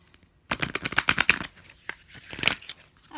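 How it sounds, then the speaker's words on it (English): Angels of Abundance oracle cards being shuffled by hand, a close run of crisp riffling card flicks in bursts, then a few lighter shuffles before a pause. "A little bit more shuffling."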